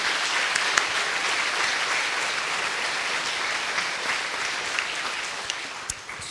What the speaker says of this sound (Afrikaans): kom ons gee som net vir ons koor vanoggend nog 'n lekker ander klap en sê net vir hulle baie dankie